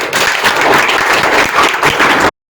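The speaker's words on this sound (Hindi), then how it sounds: "ताली मारो इसी में।" An audience claps in dense, steady applause at a close distance for a little over two seconds, and then the clapping stops abruptly.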